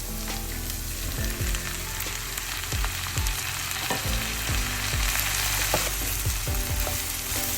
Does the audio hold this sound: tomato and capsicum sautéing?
yes